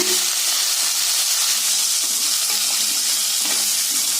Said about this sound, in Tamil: சேர்த்திட்டு நல்லா இந்த எண்ணெயிலேயே வதக்கி விடுங்க.